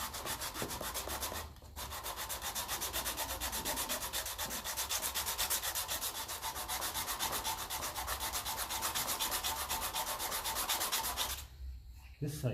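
A long sanding board rubs back and forth across a Ferguson TE20 diesel tractor part, flattening the surface with steady, rapid, close strokes that run almost continuously, with a brief pause near the start and a stop at the end.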